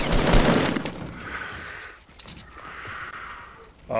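Bursts of Fortnite gunfire ring out in a dense, loud volley at the start, then fade into softer scattered game noise before another sharp burst at the end.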